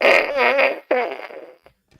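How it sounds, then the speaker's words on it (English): A fart gun salute sound effect, two loud, close, wavering blasts in quick succession with a brief gap between them, followed by a couple of faint ticks. "you get a fart gun salute"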